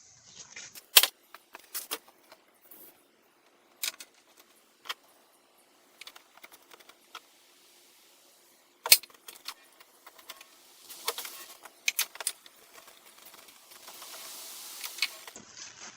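Metal bolts clink and rattle in sparse, sharp bursts with quiet gaps between them, handled close by during front strut replacement on a 2001 Chrysler Sebring; a brief hiss near the end, no talking.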